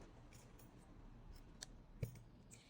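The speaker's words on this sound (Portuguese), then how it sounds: "Agora eu vou cortar aqui esse fio." Scissors snip through thread during a crafting project, a couple of faint, brief close clicks over quiet room tone.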